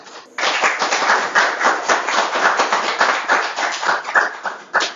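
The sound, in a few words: audience applauding a musician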